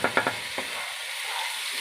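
Spices and ingredients sautéed and stirred in a pan, a few quick scraping stirs up front, then a soft steady frying hiss.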